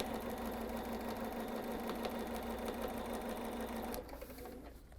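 A sewing machine runs steadily as it stitches down fabric Christmas tree shapes for a tabletop tannenbaum, a close, continuous mechanical whir that cuts off and drops to quiet near the end.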